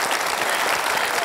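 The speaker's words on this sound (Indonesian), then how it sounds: "tepuk tangan lu dong buat Bang Hotman" Studio audience applause at an Indonesian talk show honoring Hotman Paris, a dense, steady wash of many hands clapping at full volume throughout.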